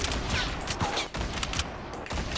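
Bursts of gunfire from the video game Fortnite, a dense fusillade of repeated shots at medium range, loud and continuous across the moment with brief gaps between volleys and no talk.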